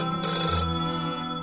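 A telephone rings in the Toca Life video game: a bright electronic trill with steady tones, one short burst with no talking over it.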